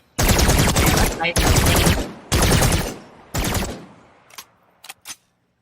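Weapon fire in Paladins comes in four loud, sustained automatic bursts, each about a second long, followed by a few short, sharp shots that trail off.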